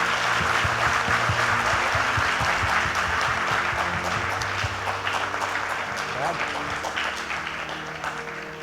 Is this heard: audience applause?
yes